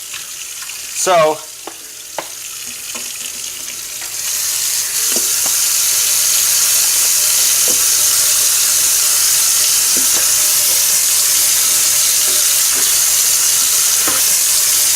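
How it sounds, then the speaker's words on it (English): Tap water runs steadily into a salad bowl in a kitchen sink, a constant rushing splash that starts after a few seconds of quieter clatter and a brief spoken word. "I'm going to give this a wash because this is the bowl we're going to use for our salad."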